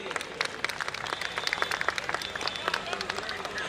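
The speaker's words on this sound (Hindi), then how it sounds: "तालियों के साथ सर का स्वागत कीजिए, सम्मान कीजिए" Audience clapping fills a community get-together in New Chandigarh as a guest is welcomed, a dense spread of claps with a steady level throughout and no voices over it.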